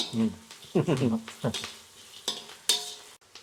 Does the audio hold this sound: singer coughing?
no